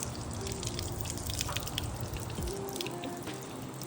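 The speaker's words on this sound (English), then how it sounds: "Take a hose, let it just trickle water out basically." A hose lets water trickle gently over a ceramic-coated car, producing a soft, continuous dribbling and patter with light drips, fairly faint and with no voices.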